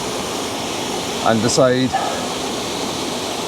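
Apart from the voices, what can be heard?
waterfall at Linn Falls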